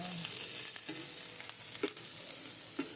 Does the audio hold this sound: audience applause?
no